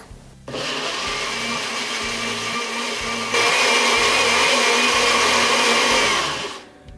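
A mixer grinder whirs loudly and continuously for several seconds blending cut mango, its motor pitch shifting partway through before winding down at the end.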